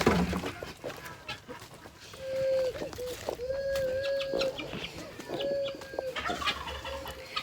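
Farmyard chickens clucking and calling in a backyard flock, several drawn-out tonal calls rising and falling over background rustle and faint voices nearby.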